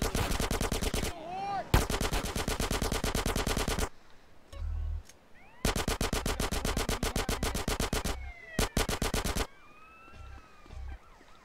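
Rapid automatic gunfire from GTA San Andreas, loud sustained bursts broken by short pauses, with scattered single shots and gaps of game background sound between volleys.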